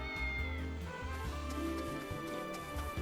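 A cat meows in the video game Triangle Strategy, a short call set against steady game background music.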